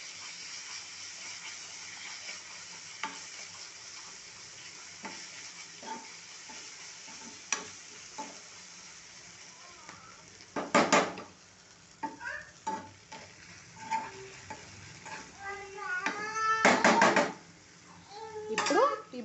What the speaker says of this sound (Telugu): మంట చిన్నగా చేసేసుకొని కొంచెం అల్లం వెల్లిపాయ పేస్ట్ వేసుకుంటాం.